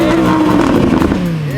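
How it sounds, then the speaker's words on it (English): An Audi R8 V10 engine revs hard close by at a car show, its pitch climbing and then falling away in a loud, snarling burst. "Give it a rev. Give it a rev."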